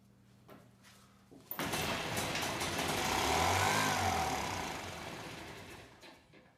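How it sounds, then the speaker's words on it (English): An old engine fires up on a test run and runs loud and steady for a few seconds, a low throbbing rumble that swells and then eases off before cutting out. "So for now, this will just be a test of the engine."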